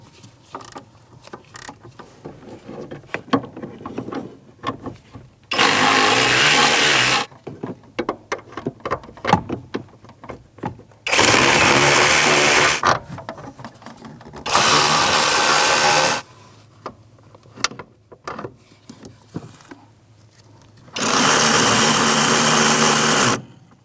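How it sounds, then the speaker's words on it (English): An electric 3/8 impact gun breaks mounting screws free on a 1992-1996 Ford F-150 pedal assembly, four loud sustained whirring bursts separated by quieter clinks and shuffling between runs. "I'm going to break them all free, and then I'll probably get my electric 3/8 gun"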